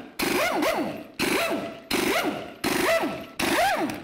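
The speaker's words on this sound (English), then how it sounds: "Let's remove our 22 millimeter lug nuts." Five loud ratcheting bursts from a wrench loosening 22 mm lug nuts on a raised 1999-2007 Chevy Silverado, each a whirring, rising-and-falling spin lasting about half a second and separated by short pauses.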